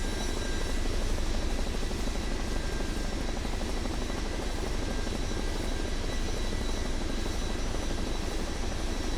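A Chinook twin-rotor helicopter in Microsoft Flight Simulator 2024 hums with steady rotor and engine noise, a constant close drone alone throughout.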